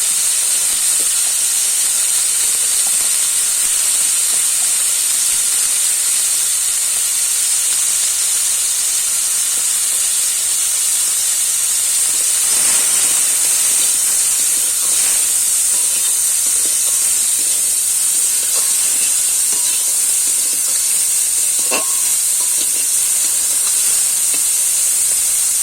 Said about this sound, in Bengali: চিংড়ি মাছটা প্রায় ভাজা হয়ে এসেছে